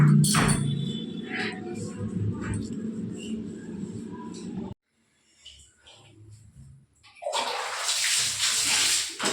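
Water runs into a bath in strong bursts, stops for a few seconds, then gushes loudly again, with light handling noises and breathing close by.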